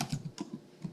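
Keystrokes on a computer keyboard while entering a new shipping address in accounting software, a few quick taps in irregular bursts, close and fairly soft.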